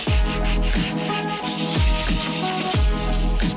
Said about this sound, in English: So it's just going up one bit of sandpaper at a time.